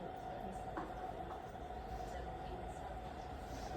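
Train rolls past on a nearby line outside a Pilates studio, a steady broadband rumble and rush heard from indoors throughout, fairly faint and continuous with no distinct clacks.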